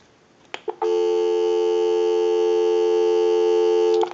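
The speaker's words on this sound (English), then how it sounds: "Go ahead and give you some dial tone." A steady dial tone hums from a Western Electric Princess telephone handset, preceded by a couple of brief clicks as the line opens, then holding loud and unbroken for about three seconds before another click ends it.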